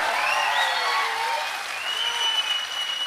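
A crowd applauds steadily for a few seconds, with whistles and cheers rising over the clapping.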